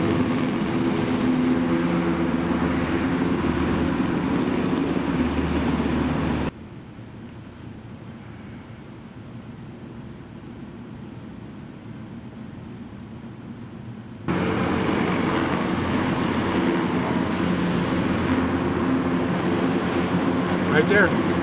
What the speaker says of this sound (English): you will see the infamous Little Bird, yes, the Little Bird Special Operations helicopter involved